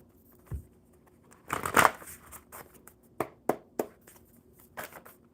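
A deck of cards being shuffled close by at a live coffee-and-cards session, with soft riffling bursts followed by several sharp snaps and taps.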